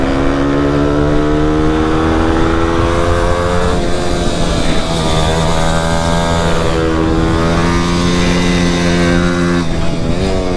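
Motorcycle engine held at a steady, loud, close drone with strong harmonic whine, pitch shifting slightly as revs rise and dip throughout, during a chase on a road.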